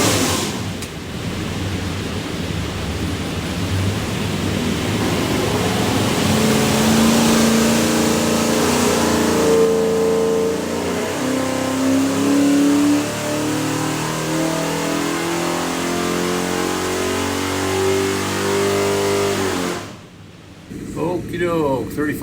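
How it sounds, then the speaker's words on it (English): A carbureted 427ci small-block Chevrolet V8 with a hydraulic roller cam and Milodon oil pan revs hard on a dyno for a '67 Nova SS, its loud roar climbing steadily before cutting off abruptly near the end. "here's your 427 small block Chevrolet"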